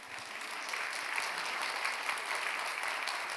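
Audience applause at a pastors' conference session, a steady dense wash of clapping from a seated crowd held evenly throughout, with no voices over it.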